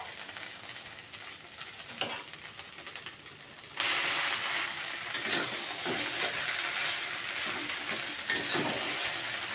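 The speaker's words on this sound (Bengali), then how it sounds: "ডিমগুলো কিন্তু সুন্দরভাবে ভাজা হয়ে গেছে। এখন আমি এখানে পাস্তাটা ছেড়ে দেব।" Pasta tipped into a pan of fried eggs, a soft even sizzle that jumps suddenly louder and brighter as it lands, then keeps crackling steadily with faint stirring scrapes.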